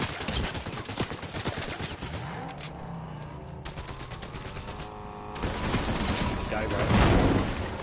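Fortnite gunfire crackles in rapid, repeated bursts of automatic shots, mixed with other game noise and engine-like rumble across the whole stretch.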